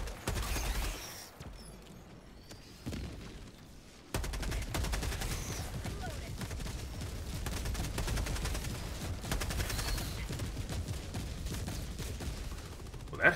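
A Gatling barrage pounds down in the game Helldivers 2, a dense, continuous rattle of rapid gunfire. It drops briefly after the opening seconds, then returns and holds steady and loud to the end, with no talking.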